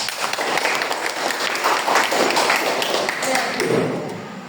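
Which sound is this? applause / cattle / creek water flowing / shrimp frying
applause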